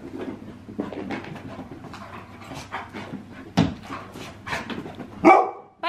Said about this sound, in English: Don't need your barking.